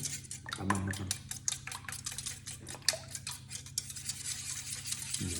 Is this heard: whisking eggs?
yes